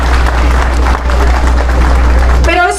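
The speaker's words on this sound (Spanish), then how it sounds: "quiero pedirles un fuerte aplauso para Patricia y para la CAF" Audience applause at a public event in Spain honouring Patricia and the CAF, a dense, steady clapping texture over a low constant hum, with a voice breaking in near the end.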